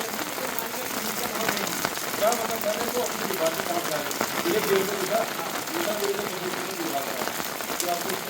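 Heavy rain falls steadily at a school building in Uttarakhand, a close, continuous wash of drops hitting surfaces, with people's voices faintly audible beneath it.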